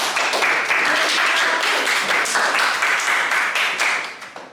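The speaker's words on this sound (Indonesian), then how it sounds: "kita beri aplaus untuk" A classroom audience of students claps loudly and continuously for a student's answer, dense applause that carries on for several seconds before tailing off at the end.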